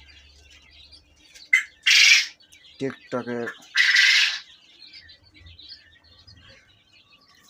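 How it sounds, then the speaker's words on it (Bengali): Seventeen-day-old Japanese quail chicks peep constantly in high, thin chirps, with a few louder squawks and a brief spoken voice partway through. "আমাদের এটা সতেরো দিনের কোয়েল পাখি"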